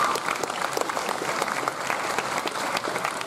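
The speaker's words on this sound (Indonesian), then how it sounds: "Tepuk tangan Pak." A room full of people at a credit union gathering claps steadily, a dense patter of hands that holds even throughout, moderately loud and nearby.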